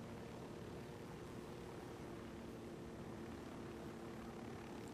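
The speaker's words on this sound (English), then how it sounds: "Pretty wobbly in the helicopter ride at the moment." Steady, droning rotor and engine noise of a helicopter in flight in the video game Ghost Recon Wildlands, constant and unbroken without any speech.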